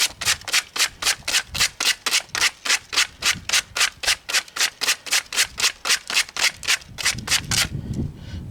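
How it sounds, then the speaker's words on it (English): Wires on a Leyland 344 tractor being sanded by hand: about two dozen steady, rhythmic rasping strokes, close and loud, each a short scratchy burst, ending with softer rubbing and handling noise. "So I was going to sand the wires too."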